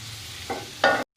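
Sliced onions sizzle lightly in a pan, a soft steady fry with two short louder bursts of stirring or scraping before the sound cuts off abruptly.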